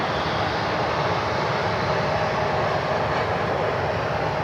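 United Express Embraer E175 regional jet out of Dulles passing near Cleveland Hopkins, a steady broad engine roar that holds evenly loud throughout with no talk.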